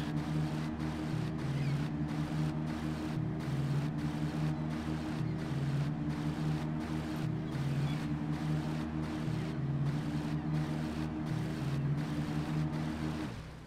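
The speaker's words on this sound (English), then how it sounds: "Love the looping engine noises." Looping motorboat engine in Grand Theft Auto 3 Definitive Edition: a steady, humming drone with strong low harmonics that repeats evenly, marked by faint regular seams, heard alone with no talk.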